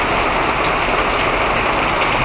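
Heavy rain pours steadily during a thunderstorm, a dense, continuous roar of water hitting surfaces close by, with no pauses or distinct thunderclaps.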